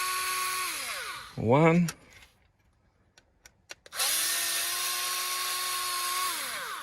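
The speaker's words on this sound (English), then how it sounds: "And just simply unscrew 3 more screws." A cordless electric screwdriver with a T10 bit removing screws on a Mercedes GLE, whirring in loud bursts, a short high spin-up, a pause with small clicks and a spoken count, then a long steady drive.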